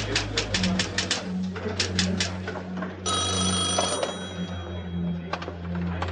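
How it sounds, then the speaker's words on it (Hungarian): An old-fashioned telephone bell rings in repeated bursts, a rapid metallic trill that starts and stops several times, close and loud over a low steady hum. "Telefon."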